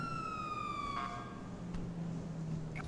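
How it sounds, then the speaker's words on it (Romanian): An emergency vehicle siren wails with a falling tone, moderately distant, over steady traffic and street noise. "Noi am prins sirenele."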